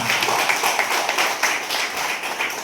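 Audience at a stress-management awareness seminar applauding a speaker, a dense crowd of hand claps at steady volume throughout, close and sustained.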